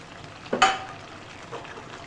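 Potatoes frying with garlic and kasuri methi in oil: a soft steady sizzle broken by a few sharp, close scrapes and clinks of a spatula in the pan.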